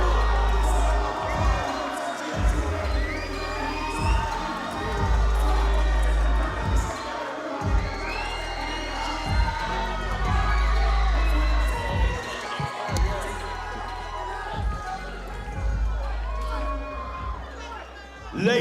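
Crowd at a cruiserweight boxing event cheering for the fighters, a loud, continuous roar of shouts and chatter with bursts of louder cheering, a voice speaking over it.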